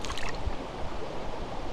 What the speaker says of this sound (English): Let's get some of this water over it.